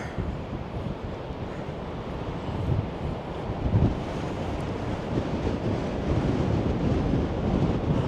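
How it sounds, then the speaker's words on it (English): Sea surf rolls in at Holkham beach on the Norfolk coast, a steady broadband roar blended with heavy wind buffeting the microphone, swelling slightly around the middle and holding loud throughout with no voices. "I can see the sea."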